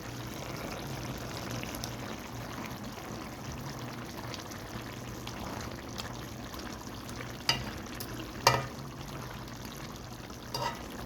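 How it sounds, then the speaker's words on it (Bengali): Fried fish being stirred into a masala with softened eggplant in a pan, giving a steady soft sizzle and scraping with a few sharp utensil clicks toward the end, no voices. "মাছগুলো মশলার সাথে একটু ডুবিয়ে দিচ্ছি"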